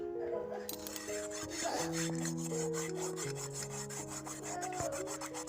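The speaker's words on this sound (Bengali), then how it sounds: "ডালির সঙ্গে একটু ইটের টুকরো নিয়ে কড়াটা ঘষে নেবো" A burnt kadai is scrubbed with a piece of brick in a bamboo tray, giving soft, rapid, rhythmic gritty rubbing strokes close by, with faint voices or tones underneath.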